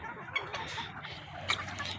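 Golden Misri hens and roosters on a poultry farm give soft, scattered clucks and short calls, close by and fairly quiet, with faint background noise.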